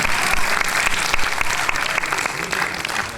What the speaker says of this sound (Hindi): आपकी तालियां